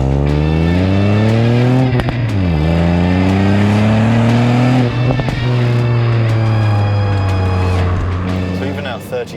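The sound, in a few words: car engine revving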